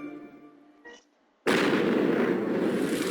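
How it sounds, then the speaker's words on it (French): In a French cartoon, a space shuttle explodes: after a brief quiet stretch with a faint blip, a sudden loud blast erupts and continues as a dense roar to the end. "Nous éprouvons présentement de légères difficultés techniques au niveau de l'explosion de la navette spatiale."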